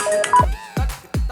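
A mobile phone rings with an electronic tone for an incoming call: short bright melodic bursts, each with a thumping low beat, repeating in a quick loud pattern with no voices.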